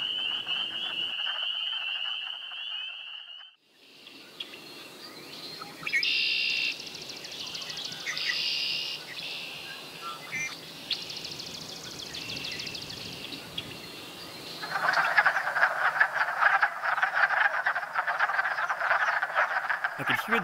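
Wood frogs calling in a Connecticut breeding pool, a dense chorus of clucking, duck-like croaks that swells loudly near the end, mixed with some bird chirps, outdoors with no talk.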